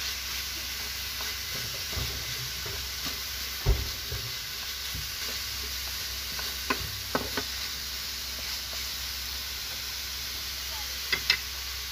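Dried kamias sautéing in a pan for sinigang sa miso makes a steady sizzling hiss, with occasional soft clinks and scrapes of stirring.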